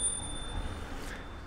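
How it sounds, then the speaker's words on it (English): An old-fashioned bell on an OKAI Beetle electric scooter rings with a steady, sustained metallic tone that lingers for the whole short moment over a low background hum. "what I like a lot, is that you have here this old-fashioned bell,"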